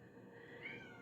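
A house cat gives a single drawn-out meow, fairly close but soft, over quiet room tone.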